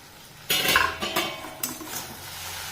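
Okra and potatoes coated in mustard-poppy paste are stirred in a pot and then covered: three sharp metallic clatters of spoon and lid, close and fairly loud, each fading quickly, with a quiet background hum.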